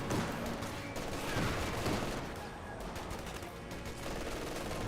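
MG42 machine gun firing in the Company of Heroes 2 video game, dense rapid bursts mixed with other battle gunfire and explosions, continuous and loud throughout.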